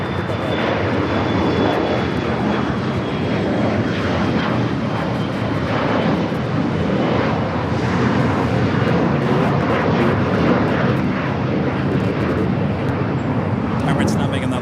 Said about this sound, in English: Emirates now making that left-hand turn onto taxiway Lima.